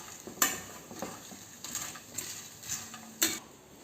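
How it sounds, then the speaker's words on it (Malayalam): Papadum roast being stirred in a pan: several sharp clinks and scrapes of a spoon against the metal come at irregular intervals over a faint sizzle, close and without talk. "നല്ലപോലെ ഇളക്കി കൊടുക്കാം."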